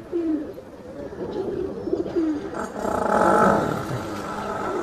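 Kaldum pigeons in a loft give soft repeated coos close by, mixed with rustling and background noise, with no speech over them.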